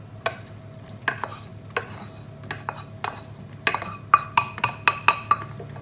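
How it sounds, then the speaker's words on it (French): Vegetables tipped into a bowl and mixed into savoury cake batter with cured meats, giving irregular knocks, clinks and scrapes of utensil on bowl that quicken toward the end; close, no speech. "On va ajouter les légumes."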